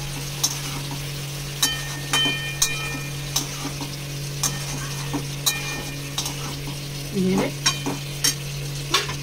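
Shukto vegetables with turmeric being stirred in a pan, a soft constant sizzle with sharp spoon clicks and scrapes against the pan at irregular intervals, close and clear, with no voices.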